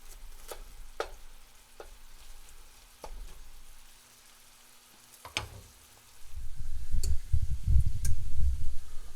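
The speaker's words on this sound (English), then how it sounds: "we're gonna let these simmer for a little while" Antelope shoulder simmering in a pan, a low bubbling sizzle that starts quiet with scattered ticks and clinks, then swells into a steady, louder frying hiss over the last few seconds, with no talking.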